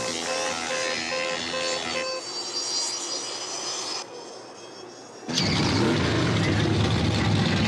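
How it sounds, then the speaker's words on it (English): Cartoon race car engines start and rev at the start of a grand prix, a loud droning roar that drops away briefly, then surges back in a full, sustained blast. "Gentlemen, start your engines."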